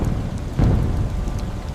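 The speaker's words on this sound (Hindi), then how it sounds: "तेज बारिश शुरू हो चुकी थी।" Heavy rain pours steadily with a low rumble of thunder swelling midway, a close, dense stormy soundscape used as an effect in a village horror story, with no voices.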